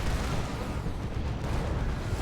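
D cannon artillery fire in the Dawn of War 2 video game: a dense, continuous barrage of booming blasts that roars steadily without pause at a fairly loud level.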